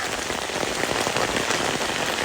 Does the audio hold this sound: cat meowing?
no